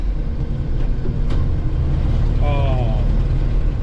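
A Jeep Wrangler YJ with an AX-5 transmission drives slow laps, its engine a loud, steady low rumble throughout, with a brief squeak partway through and a person talking over it.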